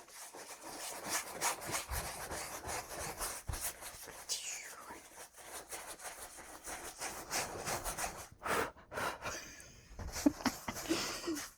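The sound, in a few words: paintbrush scrubbing oil paint onto canvas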